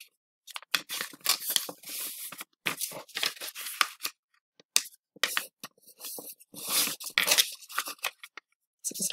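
Paper being creased and folded corner to center while making an origami barnacle, a run of short crisp rustles and crackles in close, irregular bursts separated by brief quiet gaps.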